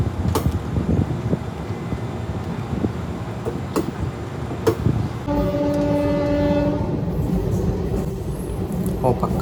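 Trains at Tanuku railway station rumble and clatter steadily, with sharp metallic clanks and a sustained tonal horn or whistle in the middle, heard at moderate distance amid outdoor ambience.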